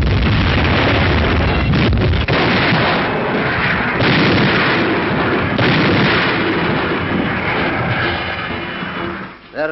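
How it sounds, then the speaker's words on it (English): British field guns firing on Monte Corvino airfield against retreating German rearguards, a continuous loud barrage of heavy booms and crackling gunfire rolling on without pause for nearly ten seconds. "now the field guns go into action to clean out that airfield"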